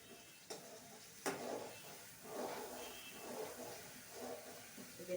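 Masala loosened with water simmers in a pan while being stirred, giving a soft steady hiss with occasional scraping strokes and a sharp clink, quiet and close.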